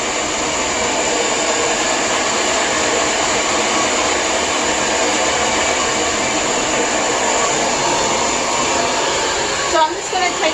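A Lange Soleil hair dryer runs in a steady, continuous whoosh at moderate loudness, with a faint brushing rustle near the end.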